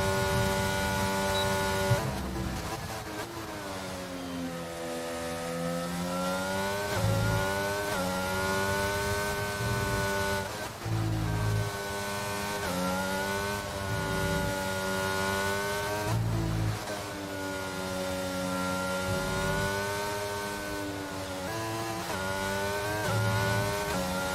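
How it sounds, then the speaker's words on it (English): Mercedes Formula 1 car engine in the F1 22 racing game at the Japan circuit, screaming high and steady through a fast lap with rising pitch sweeps on each upshift and drop on braking, loud and continuous with no talk. "Listen to the sound of the Mercedes engine."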